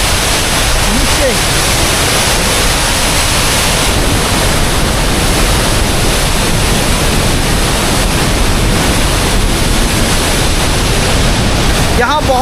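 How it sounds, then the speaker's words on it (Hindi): A waterfall in the mountain village of Tosh roars up close as a loud, steady wash of white noise that fills the whole stretch, with a voice barely rising above it. "यहाँ सामने कुछ इस तरह का झरना बह रहा है और ये जाता है नीचे"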